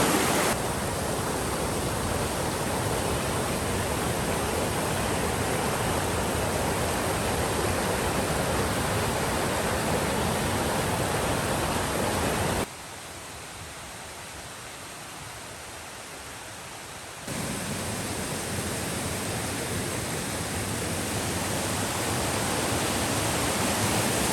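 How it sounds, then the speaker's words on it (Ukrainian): The Huk waterfall in Yaremche roars as a steady, dense rush of water, loud and continuous, dipping briefly quieter partway through before returning. "вже майже на водоспаді гук. Вон ми його вже бачимо"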